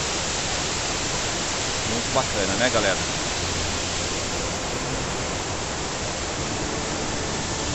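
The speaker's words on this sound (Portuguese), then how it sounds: "essa água ela vem lá da represa e ela cai ali, ó" Water from a dam spills down as a waterfall at the ruins of the Ipanema furnaces, a steady broadband roar filling the whole clip while someone speaks briefly over it.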